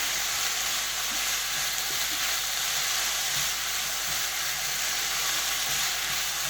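Tomatoes and vegetables cook in a pan as a spoon stirs them, making a loud, steady frying hiss with faint scraping of the spoon underneath.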